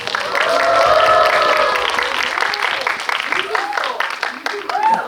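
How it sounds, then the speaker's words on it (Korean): Applause from a cinema audience at a stage greeting swells and continues under a voice speaking over a loudspeaker. "박수 한번 부탁드리겠습니다"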